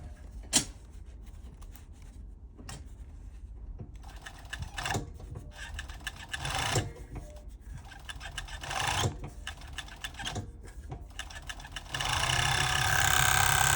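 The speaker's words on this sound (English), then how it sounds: "And just keep sewing off the end of the fabric" An overlocker serger sewing off the end of fabric, running in short bursts of fast mechanical whirring and clatter with brief pauses between, then a louder continuous run at the end; no talking.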